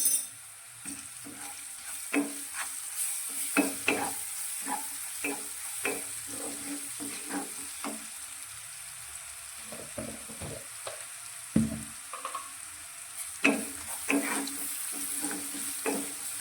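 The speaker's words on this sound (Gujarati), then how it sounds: "લસણને પણ આપણે થોડું સાતરી લઈશું" Crushed ginger and seven or eight garlic cloves sauté in a pan for a green chilli gravy curry, giving a steady close sizzling hiss broken by frequent spoon scrapes and clinks of stirring, with no one talking.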